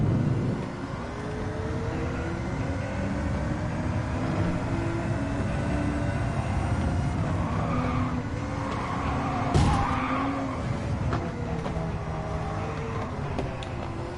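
An 800pp electric race car in Gran Turismo 7 braking and skidding, with a sustained tire rumble and whine under a steady loud drone and a brief sharp burst midway.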